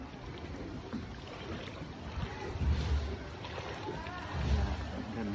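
Low rumble of a boat moving on floodwater in San Agustin, Candaba, Pampanga, with wind noise, swells of engine or hull noise, and faint voices in the background.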